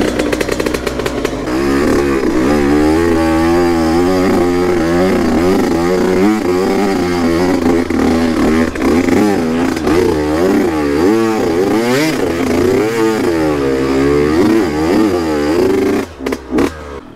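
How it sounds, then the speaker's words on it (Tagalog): A trail motorcycle in deep mud on a rainy mountain trail from Tanay, Rizal to General Nakar, its engine revving hard and repeatedly, loud and close, rising and falling as it struggles before cutting out at the end. "Nalunod yata yung yung motor ni Ken."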